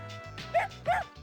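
A small dog in the Persona 3 Portable video game gives two quick, yelping barks over a steady game soundtrack.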